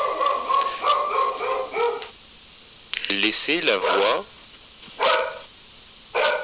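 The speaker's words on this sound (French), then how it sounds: "du chien qui aboie parce qu'on a sonné à la porte" A dog barks indoors after a doorbell rings, several short yelping barks in bursts, heard nearby and mixed with someone speaking in a studio.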